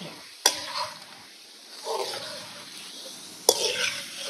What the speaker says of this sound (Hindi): तो जी हम इसमें अब पानी ऐड करने लगे हैं।